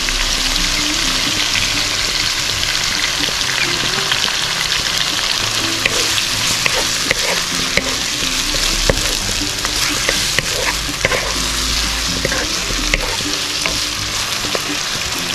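Mussels sizzle loudly and continuously in a pan as oyster sauce and soy sauce go in for adobong tahong, a dense close frying hiss with occasional stirring clicks throughout.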